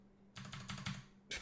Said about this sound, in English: It's a German mechanical keyboard.